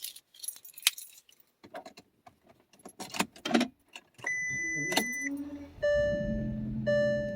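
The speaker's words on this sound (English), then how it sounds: "we're gonna go ahead and try to start it real quick, then turn it off" Keys jangle and click, then a VW Phaeton W12 engine cranks and catches, settling into a steady idle with a high chime sounding over it.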